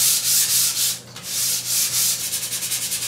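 Sandpaper rubs by hand over an oil-based fast-drying Minwax polyurethane finish, giving a close, steady scratchy rasp in rhythmic strokes with a brief pause, then quicker short strokes at the end.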